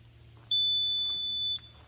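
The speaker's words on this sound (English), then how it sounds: "Okay, so now you press the limit set button." A Ghost Controls solar gate opener control board gives one steady electronic beep about a second long, clear and close against a faint background hum.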